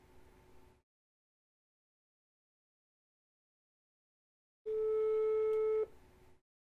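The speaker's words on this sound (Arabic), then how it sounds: "بدا التليفون." Telephone call signal tone, a steady electronic beep about a second long, loud and alone after silence, with brief faint noise around it.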